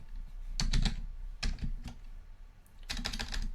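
Three short bursts of keystrokes on a computer keyboard while a command is typed in, close and clear against quiet background hiss, with no talking.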